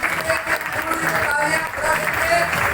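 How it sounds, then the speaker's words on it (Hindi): Audience applause at a business development training session, a loud crowd clapping in waves that swell and dip, with someone talking over the clapping. "मैं चाहूंगा आप जहां भी खड़े हैं जोरदार तालियां बजा दीजिए सभी लोग।"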